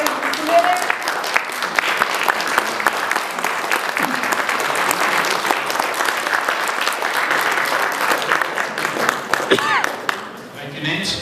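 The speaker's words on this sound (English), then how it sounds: "stand up and give our applause to our committee" Rotary Club members at a club assembly applaud their committee with sustained, dense clapping filling the room, easing off near the end as a voice begins.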